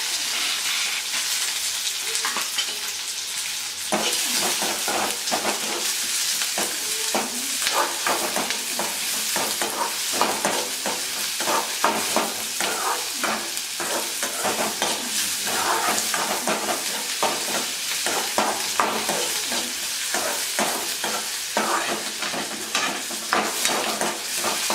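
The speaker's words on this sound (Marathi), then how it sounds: "तेल गरम झाले की त्यामध्ये साधारण 2 कांदे चिरून" Two chopped onions frying in a small bowl of hot oil for a Marathi palak vadi bhaji, a steady close sizzle with frequent stirring scrapes running throughout, no talk.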